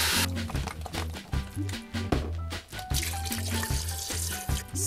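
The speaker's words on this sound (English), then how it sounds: "We're gonna dump the veggie broth in and we're gonna start the broth process" Vegetable broth poured into a cooking pot for Tom Kha soup, a continuous liquid splash and trickle running for several seconds, close and fairly loud.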